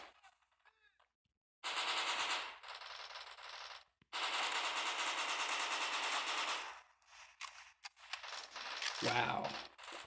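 Automatic gunfire from a gun in the video game Bullet Force, heard as long rapid bursts of loud, dense shots separated by brief pauses, with faint talking from a player.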